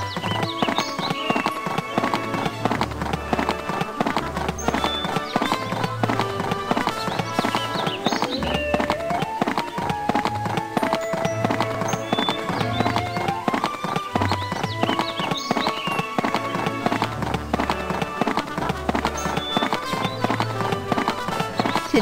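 Horse hooves clip-clop in a steady, looping rhythm while riding in the Barbie Riding Club video game, with game music playing alongside and a voice speaking over it.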